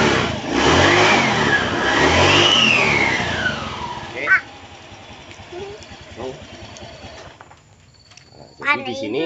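An automatic scooter engine revs under throttle, a loud rising and falling drone for about four seconds that then settles to a lower idle hum while someone talks over it.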